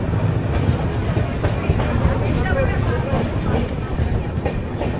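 The 17206 Kakinada Port–Sainagar Shirdi Express rolls through Mahabubabad station with a steady rumble and wheel clatter and a brief high squeal, while voices from the crowded platform run underneath.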